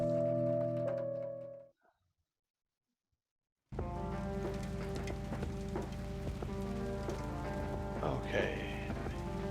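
Steady rain falls during a motorcycle ride in the point-and-click game Kathy Rain, a dense constant patter that starts abruptly after a brief silence and continues under a layer of game music.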